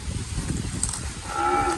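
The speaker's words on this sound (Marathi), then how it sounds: "वासरं वारकते तिकडून खाण्यासाठी." Calves moo at a village farm, a short drawn-out lowing call rising toward the end, fairly close and alone with no talk over it.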